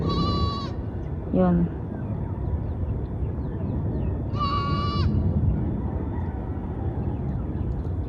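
Sheep bleat a few times outdoors on a hilltop overlooking Manila, wavering calls rising over steady wind-like background noise, with a person speaking briefly in between.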